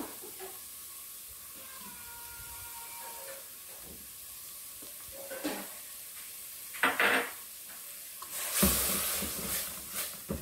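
Butter sizzling and hissing in a pan while cooking a creamy chicken dish, a soft steady fry punctuated by louder steamy bursts and brief clinks of a utensil near the end.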